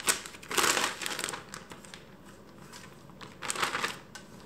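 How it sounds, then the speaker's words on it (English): A Ziploc plastic bag crinkles in bursts as cooked beans are packed into it for freezing, close and fairly quiet, with two louder rustling clusters separated by softer handling sounds. "put them in a Ziploc bag and they're ready to go in the freezer"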